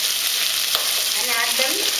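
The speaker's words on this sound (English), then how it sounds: "So I am going to add this lady's finger. Keep the flame low." Okra (lady's finger) hits a pan and fries over a low flame, giving a steady close hiss of sizzling oil with a few soft stirring scrapes.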